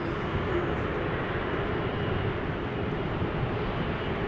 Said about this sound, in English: That is A340-600 on the move, flying on behalf of Suriname Airlines